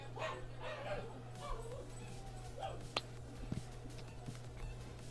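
A pet dog yips, whimpers and gives a few short barks indoors, faint to moderate and somewhat distant, over a steady electrical hum with brief sharp knocks near the end.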